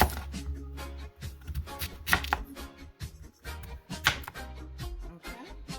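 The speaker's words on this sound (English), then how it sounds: "I've peeled and washed my potatoes again. And now I'm just gonna cut it like this." A knife chops through peeled, washed potatoes on a cutting board in uneven bursts of sharp, close thuds and board knocks, with short pauses between cuts.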